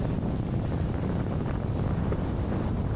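Strong beach wind buffets the microphone with a steady, heavy roar and low rumble, continuous throughout with no voices.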